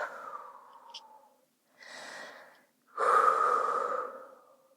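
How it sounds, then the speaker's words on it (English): Deep breathing during a Pilates reformer stretch, three slow breaths close to the ear: a long exhale, a softer breath in, then a strong, full exhale that trails off. "stay there and breathe"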